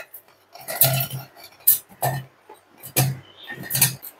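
Chopped onions, four of them, dropping into a mixer jar for a Telugu fish curry masala, landing in several separate clattering thuds and rattles close by, with no talking.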